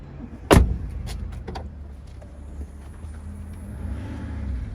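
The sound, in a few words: Opel Zafira 1.7 diesel car being driven out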